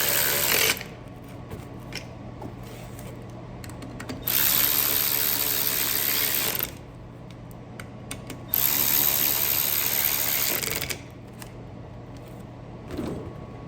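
A socket ratchet tightens a bolt on a windshield wiper motor on a snowcat, with two long stretches of quick metallic clicking separated by quieter pauses, close up.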